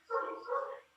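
A pet dog lets out a single short, muffled bark, lasting under a second, at moderate volume from nearby in a home.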